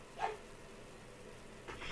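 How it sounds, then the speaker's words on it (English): A dog indoors gives a couple of faint, distant barks, one short yelp near the start and another toward the end, over a steady background hiss. "why do you have to bark while I'm recording?"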